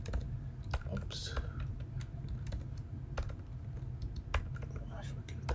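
Typing on a computer keyboard during a live software demo, a fast, irregular stream of soft key clicks over a low hum, with faint background speech.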